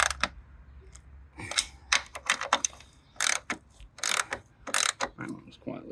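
Socket wrench tightening the top bolts on a 1994 Ford Probe, with sharp ratcheting clicks in bursts, loud and close, with short pauses between runs and a low hum underneath.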